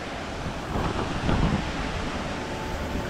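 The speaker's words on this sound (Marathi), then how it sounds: "असं छोटं छोटं पाणी पडतंय. इकडे पण इकडून पण एक धबधबा आहे." A small waterfall trickles in dense forest near Tarali dam, giving a steady broadband rush of falling water that swells slightly midway, with no voices.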